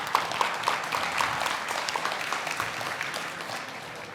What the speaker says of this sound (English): I want to give a round of applause for all the organizations and also the sponsors to make this event happen